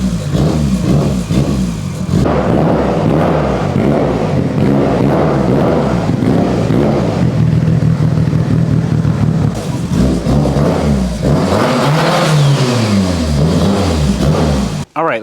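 A Mitsubishi Evo's engine revs and idles loudly and up close while the car is backed into a shop, the pitch rising and falling through several swells, with a brief voice audible partway through.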